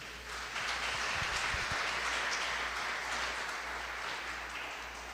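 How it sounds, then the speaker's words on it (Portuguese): A church congregation applauds in steady, continuous clapping that fills the room for about five seconds, moderately loud and slowly easing toward the end. "Vamos aplaudir ao Senhor,"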